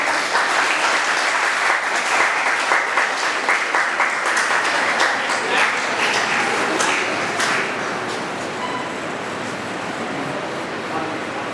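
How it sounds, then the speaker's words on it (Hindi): Sustained audience applause welcoming a guest speaker at an entrepreneurship and employability event, steady dense clapping throughout that fades slightly toward the end, with some talk mixed underneath. "Please give him a huge round of applause."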